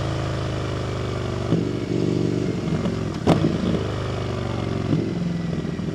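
An Indian FTR 1200 motorcycle idles and rolls with a loud, close engine rumble, its exhaust throwing off several popping burbles and one sharp crack near the middle.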